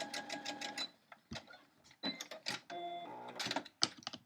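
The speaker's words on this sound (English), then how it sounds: "I'm going to very carefully sew down a 1/4 inch on the bias side" A sewing machine stitches a quarter-inch seam along the bias edge of quilt-block fabric, running in short, quiet bursts of rapid mechanical ticking separated by brief pauses.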